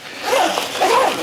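A C-shaped zipper on an Initial Ascent IA5K backpack is pulled open in two quick, close, loud rasping strokes.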